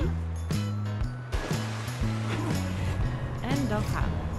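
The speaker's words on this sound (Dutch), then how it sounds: "geluiden van de zee" Sea waves from the Sago Mini Boats app game, a soft, steady surf wash under bouncy melodic game music notes that play in short repeated phrases.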